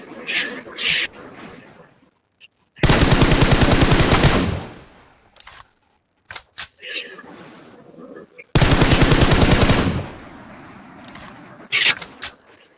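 Automatic gunfire in the BGMI battle royale video game rattles out in two long, loud, rapid bursts, separated by quieter stretches with scattered single shots and faint game sounds.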